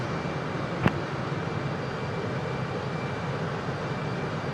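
Su-57 jet in Microsoft Flight Simulator 2020 near Antigua, a steady broadband engine roar holding level with a single sharp click early on.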